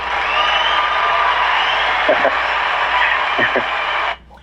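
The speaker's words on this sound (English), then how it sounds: "Round of applause again." Crowd at a talk by Brandon Robertson applauds and cheers in a steady, dense wash for about four seconds, with a few brief voices rising over it before it cuts off abruptly.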